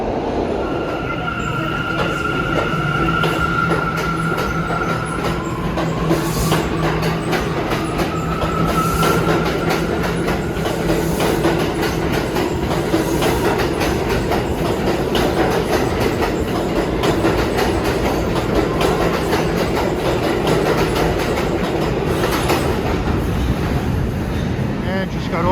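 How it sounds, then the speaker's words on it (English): R179 car built by Bombardier on the New York City subway A train near Broadway Junction, sending a steady, loud rumble of wheels on rails for the whole stretch, with squealing wheel tones and faint voices underneath. "Got off an R179 by Bombardier on the A train here at Broadway Junction"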